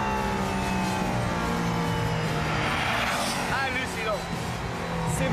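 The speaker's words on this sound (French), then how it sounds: "C'est vraiment le son d'une F1 moderne." A V6 race car engine drones loudly at high revs with tire noise, sounding like a modern F1 car, while people exclaim and talk over it.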